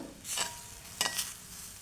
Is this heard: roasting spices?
yes